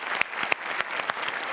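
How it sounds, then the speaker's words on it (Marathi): Loud applause from a comedy show studio audience, dense rapid clapping that fills the space evenly throughout, with a few sharper claps standing out. "जोरदार टाळ्या."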